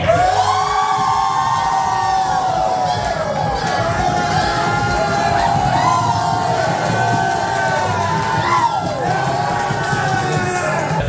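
A large crowd cheers and shouts loudly and continuously, with whoops and yells rising over a dense roar of voices.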